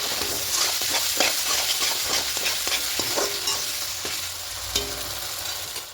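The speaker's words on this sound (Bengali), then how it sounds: "এই মটরশুঁটিগুলো দিয়ে একটু হালকা একটু কষিয়ে নেব।" Green peas frying and being stirred in hot oil in a pan while making a potato curry, with steady close sizzling broken by repeated spoon scrapes and clinks, continuous with no talking.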